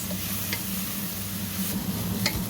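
A keto three-cheese arancini mixture cooking in a pan, with a constant low sizzle and a couple of light stirring scrapes, close and steady.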